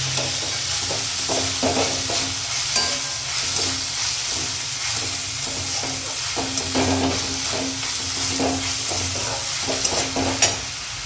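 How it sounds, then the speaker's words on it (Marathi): Home-style pav bhaji prep: chopped capsicum sautéed in a hot pan, giving a steady close sizzle broken by frequent soft stirring scrapes throughout, with no talking. "आपण आता याच्यात शिमला मिर्च टाकणार आहे शिमला शिमला मिरची पण टाकून आपल्याला चांगल्या प्रकारे परतून घ्यायचं आहे"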